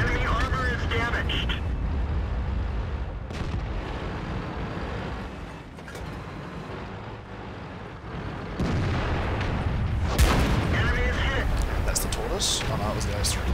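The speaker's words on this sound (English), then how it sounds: "First we're going to shoot the IS-3." Heavy tank cannon shots boom in World of Tanks, fired from an STB-1 at an IS-3: loud sharp blasts with rumbling tails, a big report at the start and another near the end, amid engine drone and game voice lines.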